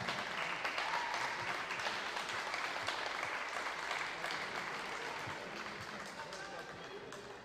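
An audience applauds young football players at a prize ceremony, with sustained dense clapping that is loud at first and slowly fades.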